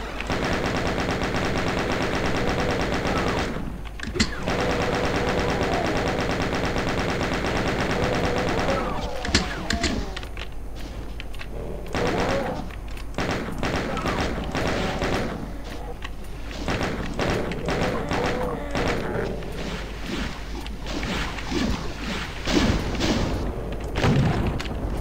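Machine-gun fire from a weapon in Doom II runs in rapid bursts, loud and close, with short pauses and a few heavier booms between the volleys.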